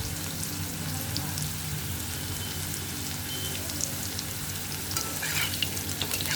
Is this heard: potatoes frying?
yes